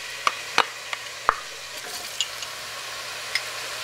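Chopped celery and red bell pepper go into melted butter in a pot for New England clam chowder, giving a faint sizzle under a few sharp clinks and taps of a utensil against the pot.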